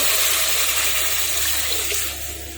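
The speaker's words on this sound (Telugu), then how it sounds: "మూడు గ్లాసులు వాటర్ వేస్తున్నాను" A continuous rush of three glasses of water pours into a pan of wheat rava for upma, steady and close, tapering slightly at the end.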